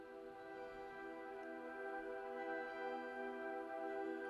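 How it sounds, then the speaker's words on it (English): Sustained woodwind ensemble texture from the Spitfire Audio Orchestral Swarm library, a steady layered chord of many overlapping held notes at even, moderate loudness with no talking. "I'm then also adding some woodwinds from the orchestral Swarm by Spitfire"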